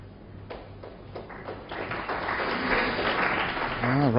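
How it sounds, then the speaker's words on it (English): Scattered applause from a snooker crowd at the 2008 World Snooker Championship semi-final, building from a few claps into steady clapping over a few seconds, fairly quiet and distant under a commentator's voice. "Round of applause"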